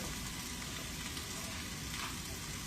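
Celery and green pepper sizzle steadily in a hot pan, a continuous soft hiss of frying with no voices.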